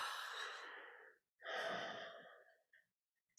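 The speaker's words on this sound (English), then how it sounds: "And a breath out." A slow, audible exhale during a guided meditation, a long breathy outflow that fades, pauses briefly, then a second soft breath trailing off, close and alone.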